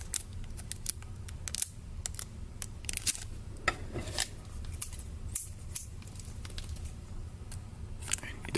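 Scissors snip through the foil of a Bakugan Resurgence booster pack at close range, a string of short, crisp cuts and crinkles over a low room hum, with no one talking.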